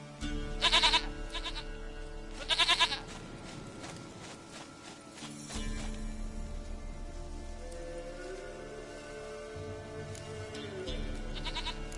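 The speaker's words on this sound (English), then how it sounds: "Goat of mine, dearest, sweetest goat." A goat in The Witcher 3 bleats twice in quick, sharp calls near the start, followed by a soft patter of rain and low game ambience.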